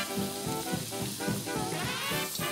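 Food, garlic among it, stir-fries in a hot pan on an outdoor camping trip in Italy, a steady dense sizzle with rhythmic scraping stirs running throughout, loud and close with no talking.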